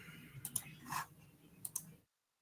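Keyboard typing clicks heard as a handful of scattered, sharp taps in two small clusters, faint and close over low background noise, with no speech.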